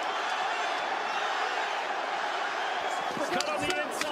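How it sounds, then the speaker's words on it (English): Arena boxing crowd on its feet during the Ryan García vs Devin Haney fight, a dense continuous roar of cheering with scattered whoops and sharp claps near the end, commentary talk beneath. "crowd is on their feet as they have been for the past few rounds."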